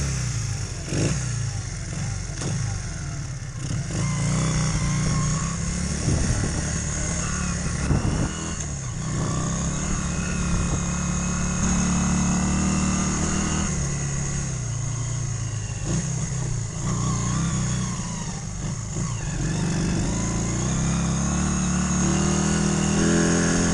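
A Honda XR 125 twin motorcycle engine, freshly welded, pulls steadily on a test ride, its loud mid-pitched drone rising and easing with throttle changes alongside continuous wind rush, with no talking.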